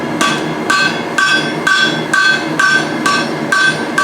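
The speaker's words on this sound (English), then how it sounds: "Hammer that down to get your bit separated." A blacksmith hammers hot steel while forging tongs, striking about eight evenly spaced ringing blows on the anvil, loud and close, with no talk.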